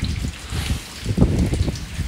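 Steady rain falls outdoors on a rainy day, a close, dense patter of drops on surfaces that continues for the whole stretch, with no voices.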